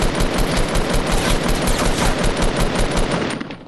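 Blue assault rifle in Fortnite firing in loud, rapid, continuous bursts of close gunshots lasting several seconds, with no voice over them.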